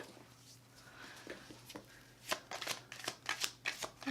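Tarot cards being shuffled and pulled from the deck in a quiet room, soft riffling at first, then a run of crisp, close snaps and flicks that build in loudness toward the end, with no talking.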